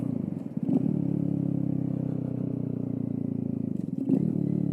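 A customized Kawasaki Z125 small motorcycle, lowered and stretched with different tires, runs steadily close by with a low, even engine drone, bumping briefly near the start and again near the end.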